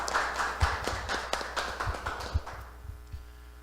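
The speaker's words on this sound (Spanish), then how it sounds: "El aplauso para Pedro Figueroa." Audience applause for a speaker at a Peruvian television station's launch event, a brief patter of claps with scattered sharp taps, moderately close and fading out after about two and a half seconds, with no talking.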